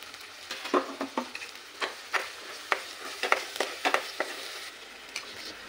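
Homemade masala with a little turmeric sautés in oil in a pan for a restaurant-style cashew curry, with irregular spatula scrapes and taps over a soft, continuous sizzle.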